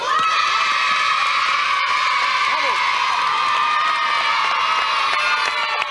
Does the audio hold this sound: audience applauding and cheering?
yes